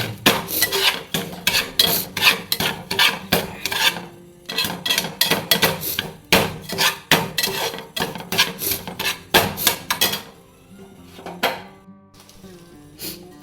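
Semolina and salt are mixed in a pan with steady, rasping scrapes in a fast, rhythmic run of strokes. The scraping thins to sparse, quieter strokes near the end.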